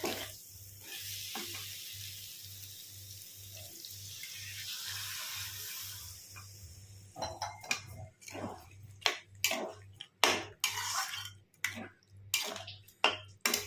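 Water pours into a hot pan of spiced jackfruit with a loud hiss and sizzle that fades, followed by clinking and scraping as it is stirred.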